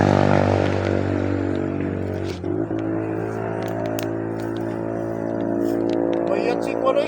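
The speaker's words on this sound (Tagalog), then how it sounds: "Yan tol, rinig namin yung mga motor na dumaan." Motorcycles passing by on a road while people wait for an ambulance, with loud engine drones and harmonic whine shifting as they go, plus clattering scrapes, heard under people talking.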